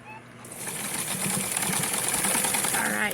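Sewing machine stitching back and forth on an elastic waistband for doll pants, a close, steady whirring motor hum with rapid needle rhythm lasting a few seconds, with a voice briefly at the start.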